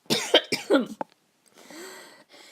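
A woman coughs several times in a quick, close burst, then a quieter throat-clearing rasp follows after a brief silence.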